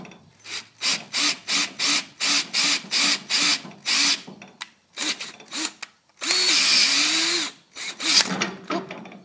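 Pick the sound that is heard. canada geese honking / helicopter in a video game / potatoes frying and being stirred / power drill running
power drill running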